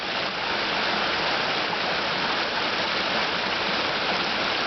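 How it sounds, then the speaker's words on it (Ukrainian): Mountain waterfalls and flowing water rush steadily and loudly, a dense continuous roar that never breaks, heard up close with no talking. "Тут такі водоспади"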